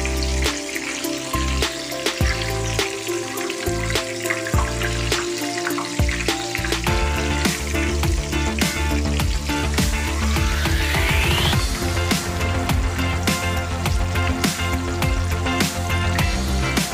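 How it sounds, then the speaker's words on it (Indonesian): Tofu egg rolls frying in hot oil, a continuous bubbling sizzle that stays loud and steady throughout, with scattered crackles and pops over the top. "terus lalu kita goreng dengan minyak yang panas"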